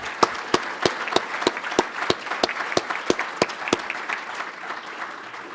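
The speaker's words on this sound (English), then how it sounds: "Let's give them all a big round of applause again." A room of listeners claps for a panel on land stewardship, with distinct sharp individual claps standing out over a steady bed of applause that continues throughout.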